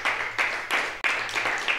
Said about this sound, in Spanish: Señor, recibe este aplauso.